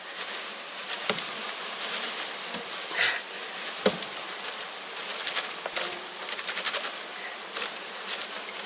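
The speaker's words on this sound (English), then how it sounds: "And we go over and then shake the bees in." Honeybees from a package shaken into a hive box on a permaculture farm apiary: a dense, continuous swarm buzz fills the air, punctuated by a few sharp knocks and thumps as the package is jarred, with no talking.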